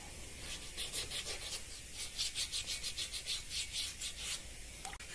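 Hand sanding of carved stone with wet sandpaper makes a rhythmic rasping scrub, repeated quick strokes close up and fairly quiet, with no talking.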